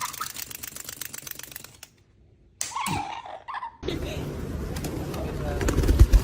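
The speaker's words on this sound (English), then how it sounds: "Pigeon Tower" Pigeons coo at a pigeon tower, soft rolling calls heard among clicking and rustling, with a brief near-silent gap before busier noise resumes.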